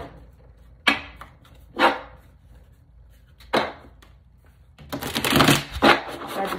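Tarot cards are shuffled in bursts: three short riffling swishes spaced apart, then a longer, louder run of shuffling near the end, close by with no talking.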